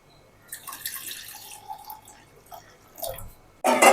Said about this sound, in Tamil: மிக்ஸ் பண்ணிவிட்டு பால் இருக்கு, பாலை ஊற்றிக்கோங்க